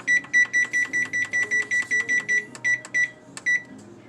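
A kitchen timer beeping in a rapid, even series of about a dozen loud, close electronic beeps, then a few irregular beeps before it stops.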